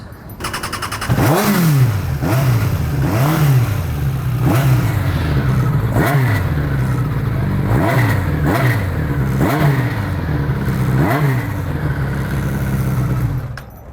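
A custom Honda CB750 motorcycle engine with a 4-into-1 exhaust revs repeatedly, each throttle blip sweeping up then dropping back, about once every second and a half, loud and close.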